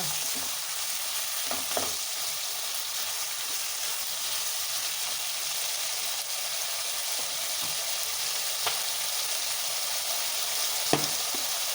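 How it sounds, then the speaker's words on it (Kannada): Chicken frying with turmeric in a pan, giving a steady, close sizzle throughout with a few faint clinks of stirring. "ಇದರಲ್ಲಿ ಫ್ರೈ ಆಗಲಿ. ಬೇಗ ಆಗುತ್ತೆ, ರುಚಿಯಾಗಿರುತ್ತೆ ತುಂಬ."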